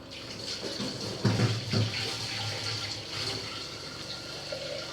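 Water pours and splashes in a kitchen, a soft continuous flow with a couple of brief louder gushes, fairly quiet and with no one talking.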